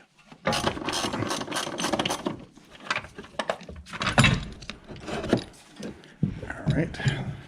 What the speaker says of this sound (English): You take that bolt out, 15mm,